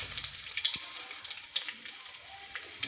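Cumin and mustard seeds dropped into hot oil in a pan, giving a quiet bright crackle and sizzle with small popping spikes throughout.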